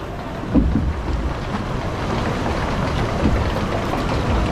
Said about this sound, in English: Here we go then on the log flume.